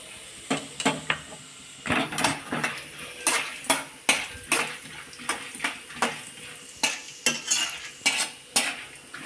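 Dal and peanuts roast in a pan as a metal spoon scrapes and clinks against it in repeated strokes over a faint background sizzle.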